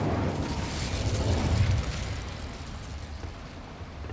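A fire spell cast in a video game, a loud rumbling whoosh-like blast that swells to a peak around a second in, then settles into a sustained roaring hiss that fades slightly, with no talking.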